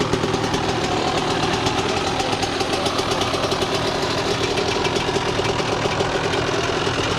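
A Yamaha YZ 125 two-stroke dirt bike engine runs at a loud, steady idle with a rapid, even buzzing throb that stays constant throughout, no voices.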